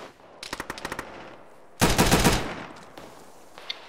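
Close, loud automatic gunfire in Arma during a ShackTac squad mission: a rapid burst of about eight shots, a short pause, then a longer, heavier sustained volley, with a few scattered faint shots trailing after.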